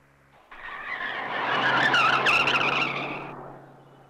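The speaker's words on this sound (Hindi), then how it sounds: "तो फिर ये गाड़ी इतनी तेज क्यों चला रहा था?" A speeding car skids with a loud, sustained tire squeal that rises and then fades over a few seconds, heard alone with no talk.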